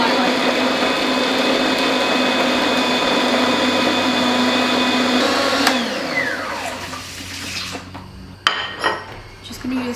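An electric blender whirs loudly as it blitzes onions, a steady high motor drone that winds down partway through, followed by clatter and knocks from the jar and utensils close by.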